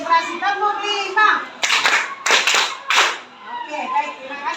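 In an Indonesian school classroom, children clap a five-beat rhythm in a few sharp, loud bursts, with a teacher and kids talking before and after.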